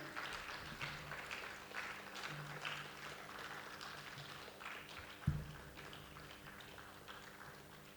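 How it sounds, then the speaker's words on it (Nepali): An audience applauds at a book release ceremony in Nepal, faint, scattered clapping that continues throughout, with one sharp knock partway through. "हामीहरू सबैजनाले जोरदार तालीका साथ यस अवसरमा साथ दिनको लागि अनुरोध गर्दछु"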